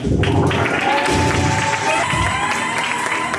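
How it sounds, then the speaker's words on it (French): Sustained audience applause with some cheering fills a hall in Brussels as a woman named Ika de Jong is welcomed on stage, loud and steady throughout. "Et on applaudit"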